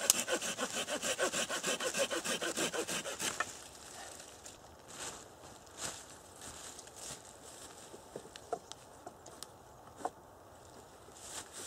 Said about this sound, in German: ich muss hier sägen